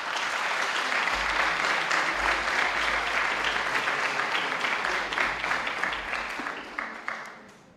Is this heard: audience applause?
yes